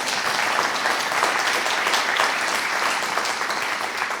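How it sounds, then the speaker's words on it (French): Audience applause after a talk at a French public meeting, a dense steady roar of many hands clapping that holds loud and even throughout. "Merci, on peut vous applaudir."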